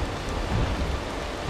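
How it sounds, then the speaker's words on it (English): Steady rain with low rumbling thunder in a video game storm, a dense continuous wash of noise with deep rolling undertones, fairly loud and with no voices over it. "man, it's just lightning."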